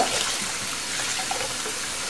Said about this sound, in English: washing it just simply means running it through water